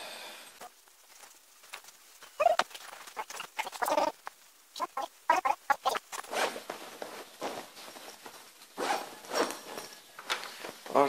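A bag is zipped shut during packing before an early-morning trip, with several quick rasping zipper pulls and handling rustles in a quiet room, and no talking.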